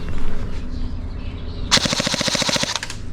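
A Novritsch SSE18 airsoft electric gun fires a rapid full-auto burst from a 100-round magazine, a fast, even string of sharp mechanical clicks close by, starting abruptly after a quiet moment and lasting about a second.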